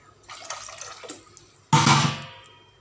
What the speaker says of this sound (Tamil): கொஞ்சம் கூட தண்ணி போடுறேன்